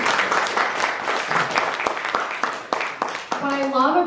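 A crowd applauds an author at a literary festival, a dense wash of steady clapping that fades toward the end as a voice begins speaking over it.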